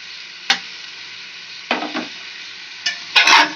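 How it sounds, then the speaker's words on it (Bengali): Vegetables with carrot and corn stirred in a pan for an oil-free chicken stew, with a few separate scraping stirs and soft sizzling bursts, close and clear with quiet gaps between. "সব সবজি একটু নাড়াচাড়া করে নেবো।"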